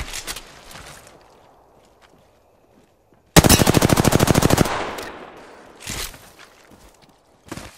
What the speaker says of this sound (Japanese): 射撃開始。